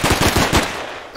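Rapid automatic gunfire in the top-down stealth game Of Guards and Thieves, a quick burst of about half a dozen sharp shots in fast rhythm, loud and close, then tailing off.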